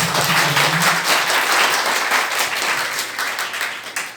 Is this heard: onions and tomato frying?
no